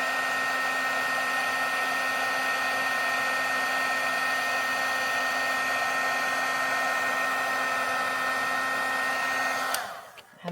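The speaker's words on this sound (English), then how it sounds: "We're going to heat this up, and you'll get to see the powder melt" A heat tool melting white embossing powder for a craft project blows a steady, loud whirring hiss nonstop for about ten seconds, then cuts off abruptly near the end.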